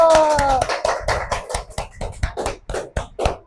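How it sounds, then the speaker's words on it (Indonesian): Fifth-grade pupils in a classroom break into brisk applause, many hands clapping in a rapid, uneven burst close by that keeps going loudly throughout. "beri aplaus yang meriah buat Fatur Rahman karena berani maju"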